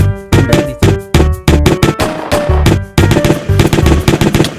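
Assault rifle fire in a zombie apocalypse video game rattles out in loud, rapid bursts of sharp repeated shots with brief pauses between volleys, close and dominant with no voices.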